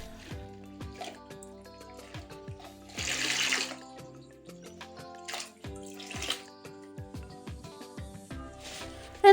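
Water splashing and trickling into a toilet bowl during a rinse after cleaning, with running and dripping sounds, a louder gush around the middle and irregular splashes throughout, fairly close.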